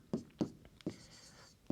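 Chalk or pen writing on a board during a maths lesson, four distinct scratchy strokes spaced irregularly, close and fairly quiet.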